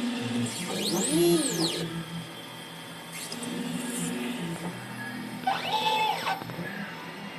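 Printer running a nozzle check after a head clean, with whirring carriage movement, rising and falling motor tones and mechanical clicks, fairly close and steady throughout.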